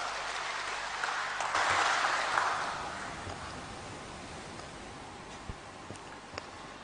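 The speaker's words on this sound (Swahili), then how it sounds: "Tumpigie makofi mengi tafadhali" Applause at a State House event in Tanzania, a brief burst of crowd clapping that swells then thins out into scattered claps and faint ticks in a reverberant hall.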